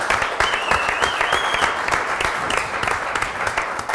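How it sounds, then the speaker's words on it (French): Studio audience at a French television show gives sustained applause, dense steady clapping from a large crowd filling the whole stretch, close and loud. "On va applaudir d'abord le public qui est venu très nombreux ce lundi."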